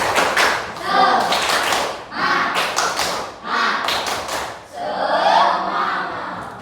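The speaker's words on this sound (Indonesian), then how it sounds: "kita tepuk semangat dulu ya" A sixth-grade class in Indonesia does a rhythmic spirit clap during a maths lesson, several bursts of brisk patterned clapping with pauses between, children's voices mixed in.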